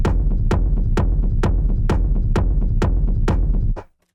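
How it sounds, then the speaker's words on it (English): A deep techno rumble is sidechained to a steady four-on-the-floor kick drum, pumping in an even rhythm of about two hits per second. The sound is loud and throbbing, then cuts off abruptly near the end. "this classic techno rumble"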